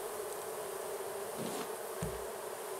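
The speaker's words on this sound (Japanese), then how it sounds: "ここは蜂の巣がありまして、" A steady, dense buzzing of bees swarms around a beehive aboard a raft-turned-ship in a survival building game, a continuous drone alone at moderate loudness without speech.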